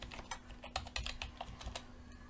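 Quiet, close typing of code on a computer keyboard, a quick run of light keystrokes over a faint steady hum, with no voice.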